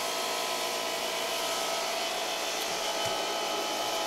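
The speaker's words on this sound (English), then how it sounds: "let's see if it starts up this air compressor" Air compressor powered through a Cobra inverter during surge testing, running with a constant loud motor whine and broadband rush throughout, close by with no talking.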